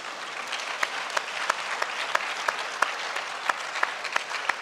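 Audience applause at a panel session rolls on steadily, a dense bed of clapping with a regular rhythm of loud, crisp individual claps punching through, fairly close and full.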